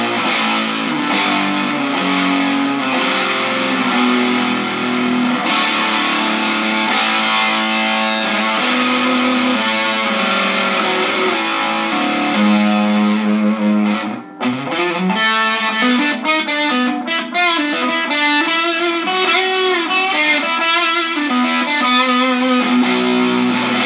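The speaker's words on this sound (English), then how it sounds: "it really sounds to me like a very classic kind of distortion pedal" Electric guitar played through a Throbak Stonebender Mk. II fuzz pedal with three germanium transistors, single-coil pickups; thick, buzzing distorted chords and sustained notes ring continuously and loudly, with a brief break midway before busier riffing.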